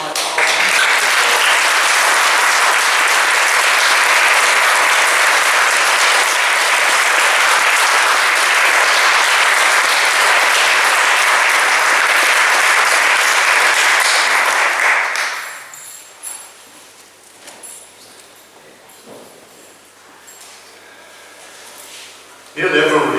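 Loud, dense applause from an audience at the official opening of a church centre, a steady roar of many clapping hands for about fifteen seconds before it stops abruptly, leaving a quiet room with faint scattered noises.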